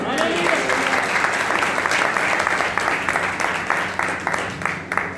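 A congregation at a church meeting in Barnala claps loudly and steadily, dense sustained applause with voices mixed in throughout.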